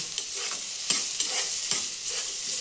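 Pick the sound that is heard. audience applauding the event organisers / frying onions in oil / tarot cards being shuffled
frying onions in oil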